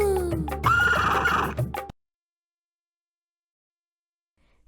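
A horse gives one loud, close whinny that rises and falls for about two seconds, then cuts off to silence.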